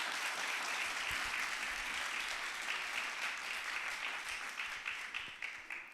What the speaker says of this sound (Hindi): आए एक दफा फिर से यीशु मसीह के लिए जोरदार तालियां बजाएंगे।